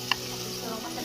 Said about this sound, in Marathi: तर आपले सर्व मसाले भाजले.